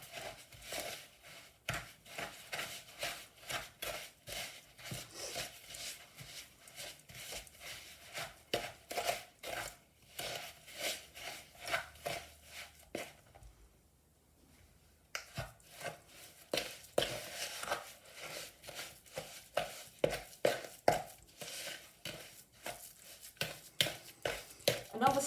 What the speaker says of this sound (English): it's years since I've had to cream butter and sugar